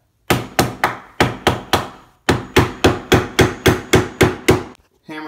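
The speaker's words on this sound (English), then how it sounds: "hammer it in there to get a little space" Steady metallic hammer strikes driving a putty knife under a laminate countertop, about fifteen sharp blows in two quick runs with a short pause between, loud and close.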